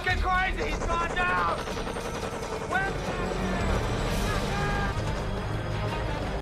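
Enemy sniper gunfire in a war film, dense rapid shots and bursts of fire over a loud, continuous battle mix, with a voice speaking over the action.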